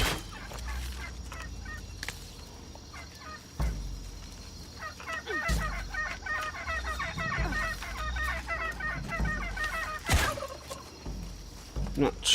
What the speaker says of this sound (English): Not sure what kind of birds these are. Are they turkeys?